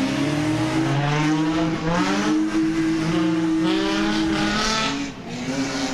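Loud race cars roar at a raceway event, their engines wailing in rising and falling revs with layered, overlapping pitches that stay close and intense throughout.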